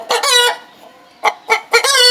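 A caged rooster clucks loudly and close by, giving a few sharp, harsh squawks in quick succession with a short pause between the first burst and the rest.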